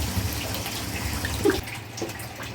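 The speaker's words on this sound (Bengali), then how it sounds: "কষা হয়ে গেছে এবার জল দেবো" Water pours from a container into a pan of spiced chital fish curry masala. It makes a steady gushing splash, close and moderately loud, then eases off toward the end.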